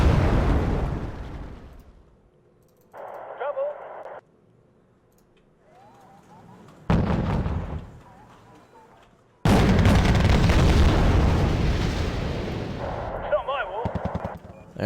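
Grenade launchers fire in the strategy game Wargame: Red Dragon, loud bursts of explosive detonations in several separate clusters, the last a long rolling barrage, with brief game voice chatter in the quieter gaps.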